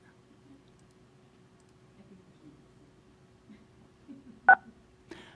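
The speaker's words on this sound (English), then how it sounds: "follow the prompts to unmute at this time by pressing *6" A caller dials star six on a telephone keypad to unmute during a public commission meeting call-in: one sharp dual-tone beep, then a second briefer, fainter tone, over a quiet line hum.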